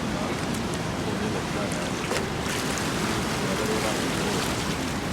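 The icy cold Kunhar River rushes past in a loud, steady roar of churning water, close by and continuous, with wind buffeting the microphone.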